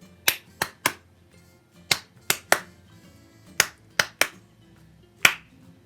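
A challenge sequence of crisp claps or finger snaps for counting, heard at a slower pace: about ten close, sharp hits in pairs and small groups with short pauses between them. No voices are present.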